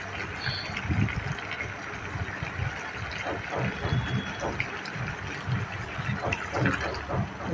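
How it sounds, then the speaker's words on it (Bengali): Hot water poured into a pot of cooking meat with cucumber, a close gushing and splashing with uneven bursts over a low background rumble. "এখন আমি গরম পানিটা ঢেলে দেবো।"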